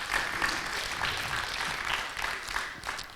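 An audience at a Korean poetry talk gives steady applause from many hands, a dense even clatter of clapping that carries through the whole stretch without a break, fading slightly at the end.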